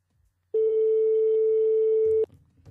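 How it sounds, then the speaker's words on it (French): A single long steady telephone tone during a live radio call-in game show on a Réunion FM station, holding for nearly two seconds before cutting off abruptly, with faint room noise after. "Ça sonne."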